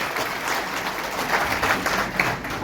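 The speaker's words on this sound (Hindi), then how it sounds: "जोरदार तालियों के साथ उनका स्वागत करिए" A crowd at a political election rally in Bareilly claps loudly to welcome a candidate, a continuous, moderately distant burst of many hands with a few sharper claps standing out.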